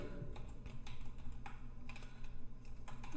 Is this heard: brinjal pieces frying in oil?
no